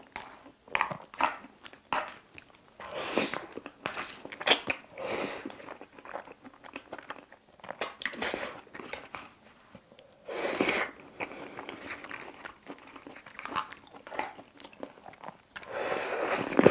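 Chewing and crunching on Pizza Hut double garlic steak and shrimp pizza, close up, with irregular bites and smacking spread through a quiet stretch with no talk.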